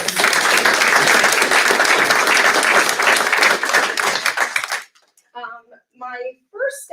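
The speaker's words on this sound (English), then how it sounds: "So we'll give him a round of applause." Applause at a school district board meeting, a dense burst of clapping from the room lasting several seconds, then fading into quiet speech.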